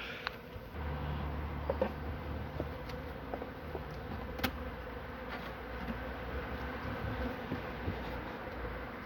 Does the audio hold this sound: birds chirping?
no